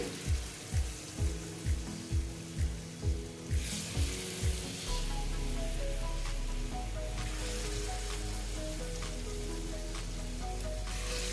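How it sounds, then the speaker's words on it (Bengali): Ripe banana fritter batter is dropped in rounds into hot oil and fries, first in a run of rhythmic pulses, then as a steady loud sizzle with faint clinks over it; nobody speaks. "পুরো তেলটা মোটামুটি গরম হয়ে গেছে আমি এইগুলো এখন দিয়ে দিচ্ছি"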